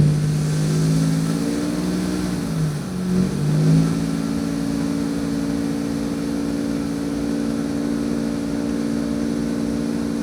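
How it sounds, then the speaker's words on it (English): A car engine rises from idle to a steady hold at about 2400 RPM during a charging-system test with loads switched on, droning evenly and close for several seconds after the revving. "We're gonna rev it once again to 2400 RPM."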